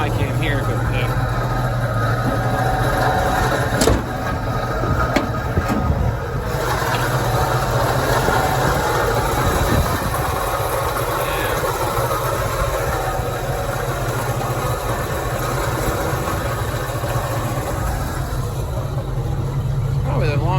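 A 1968 Pontiac Firebird engine idles steadily at close range with a low continuous rumble and a bearing growl, while a person talks over it.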